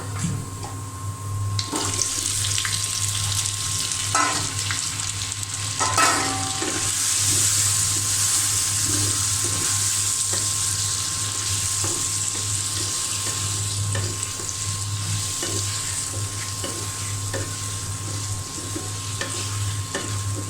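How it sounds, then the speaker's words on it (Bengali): Taro pieces sizzling and frying in a pan with previously fried onions, a constant hiss of hot oil with occasional stirring scrapes and clatters, close and steady, no talking. "কচুটা আমি ভালো করে কষিয়ে নিব।"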